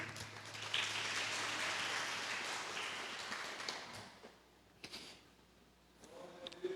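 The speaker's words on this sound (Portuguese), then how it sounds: "Dê um forte aplauso a Jesus." A church congregation applauds in a sustained, moderately loud burst of clapping for about four seconds, then fades into near silence broken by a few faint taps and a soft voice.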